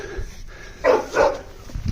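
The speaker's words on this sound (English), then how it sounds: "Stop barking." Two sharp dog barks close by, a quick pair in the middle of a quiet background with faint low rumble.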